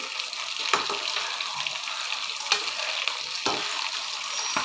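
Chicken fries in a pan with a steady sizzle, broken every second or so by the scrape of a spoon turning the pieces.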